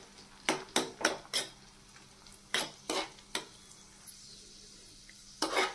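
A metal spoon scrapes and clinks against a pan and bowl as fried raisins are moved out for rava laddu. Roughly ten crisp, close strikes come in uneven clusters over faint background hiss, with no talking.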